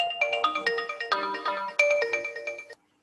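A mobile phone ringtone goes off in a classroom, playing a bright repeating melodic sequence of chiming notes for about three seconds before cutting off abruptly.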